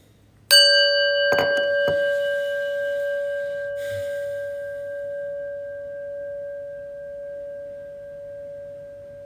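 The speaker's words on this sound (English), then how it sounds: "we're going to listen to the prayer bell here" A small prayer bell is struck once with a soft thunk. It rings out in a clear, sustained tone that fades slowly over several seconds in an otherwise quiet room.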